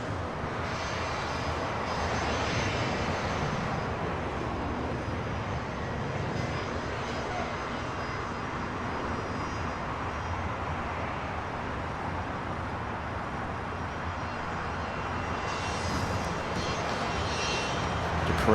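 Private jets taxi along a taxiway at LAX, their engines giving a steady, loud, continuous roar that holds throughout with no break.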